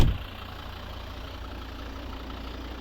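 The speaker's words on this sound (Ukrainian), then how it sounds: "Вольвовський, п'ятициліндровий, дизель мегапотужний і меганадійний, і економічний до того ж." A 2011 Volvo V60 2.0 D3 five-cylinder diesel idles under the open hood, a steady low, even rumble at moderate level, with a brief knock at the start and no talking.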